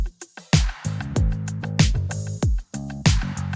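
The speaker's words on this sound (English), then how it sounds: "You add in the drums" An 80s pop and 70s disco style beat, with a thick, beefy synth bass line and a punchy drum kit playing a steady groove. Kick and snare hits land on a regular pulse under sustained bass notes, loud and close, with no voices.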